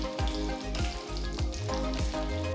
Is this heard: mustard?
yes